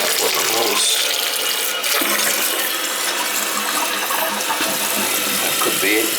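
Water runs and fills steadily inside an older toilet's tank, a continuous loud hiss and gurgle of flow lasting throughout with no pauses.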